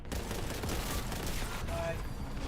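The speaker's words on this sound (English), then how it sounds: "Oh, they're shooting at me." Gunfire from enemies in a Warhammer Boltgun shooter game, a dense continuous crackle of overlapping shots filling the whole stretch, loud and steady with a faint speaking voice underneath.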